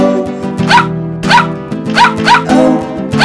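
Barks in a children's nursery rhyme song about a farmer's dog, five or six loud, evenly spaced woofs in a rhythmic musical pattern, close and prominent.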